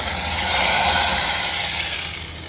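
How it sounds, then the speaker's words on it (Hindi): Loud, bright sizzling hiss of hot ghee tempering poured into dal, steady and close, swelling slightly then easing off. "चलिए अब हम इसे दाल में तड़का लगा देते हैं।"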